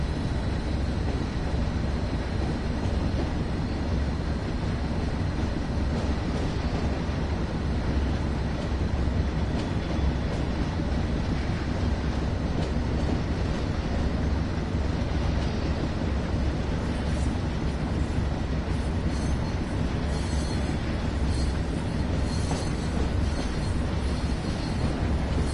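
A Class 08 shunter locomotive shunting in Train Sim World 2 gives a steady, loud low rumble with rolling wagon noise and faint clatter throughout, with no talk.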